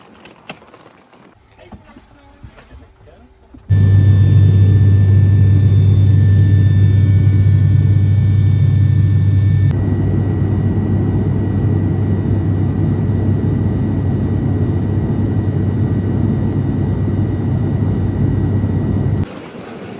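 An airplane at a small airport serving flights to Stockholm rumbles loudly and continuously once its engines come up, holding a steady roar almost to the end, with people talking in places.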